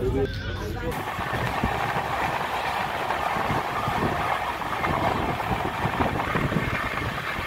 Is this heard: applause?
no